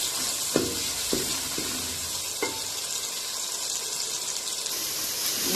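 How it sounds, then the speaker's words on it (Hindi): Tomatoes fry in golden masala in a pan for a chana salan, giving a steady bright sizzle with a few sharp utensil clinks early on and no voices. "अब इसमें मैं टमाटर शामिल कर दूंगी। टमाटर डाल के इसको 5 मिनट के लिए इसको टमाटर सॉफ्ट होने तक जो है ना पकाऊंगी।"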